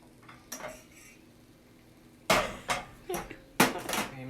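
Metal pans, including cast iron, clatter and clang in a kitchen while someone bakes and air-fries chocolate donuts, giving several sharp, separate knocks and rattles, a few light at first and then louder bangs in quick succession.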